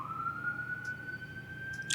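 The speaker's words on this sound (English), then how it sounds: "all these sirens" A steady siren tone holds one pitch throughout, moderately loud, with faint traffic rumble beneath and brief higher chirps near the end.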